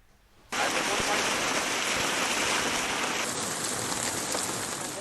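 Unseasonal rain with hail falls over farm fields in Malpur tehsil, Aravalli district, Gujarat: a dense, loud, steady hiss of heavy rain that starts abruptly after a brief quiet moment and continues without a break.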